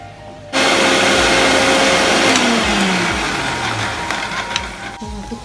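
Mixer grinder whirring loudly and steadily as it grinds dry spices with garlic cloves for a prawn fry, the motor starting abruptly and running at an even pitch for several seconds with a slight wobble.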